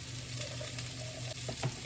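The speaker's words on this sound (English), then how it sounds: "Now once they're browning on the other side, good time to prepare your stock." Swedish meatballs browning in a frying pan give a steady close sizzle and crackle, with a few soft stirring scrapes near the end and no talking.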